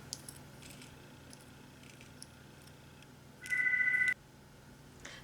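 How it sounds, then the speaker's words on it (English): A home landline telephone rings once in a single loud electronic burst partway through, set against a quiet room with faint handling noises around it. "That's my home phone, and I can't just shut it off."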